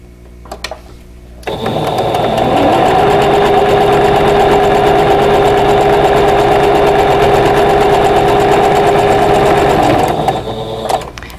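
A sewing machine stitches two fabric pieces joined right sides together for a 12-inch quilt block. After a few faint clicks it starts, then runs loud, close and steady for about eight seconds with a fast mechanical whir before stopping.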